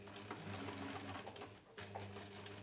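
A sewing machine stitches a fabric pouch in one steady, continuous whirring run close up, pausing briefly near the end before resuming, with no talk over it.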